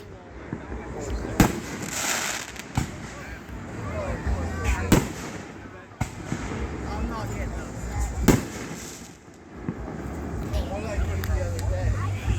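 A fireworks show booms and crackles in a series of loud bursts spread across the scene, with people talking over the explosions.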